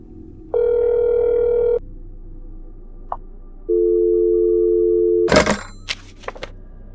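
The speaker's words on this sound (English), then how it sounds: "To get that dial tone." Telephone tones in the video game That's not my Neighbor: a steady dial tone, a short pause, then a second long tone, followed by a loud clattering click and a few faint taps, with no talking.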